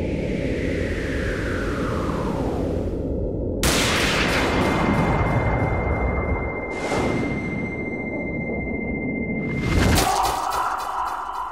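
Gunfire in the Resident Evil: Dead Aim video game: several sharp, loud shot bursts in sequence, each with a ringing electronic tail, over a steady background of game ambience.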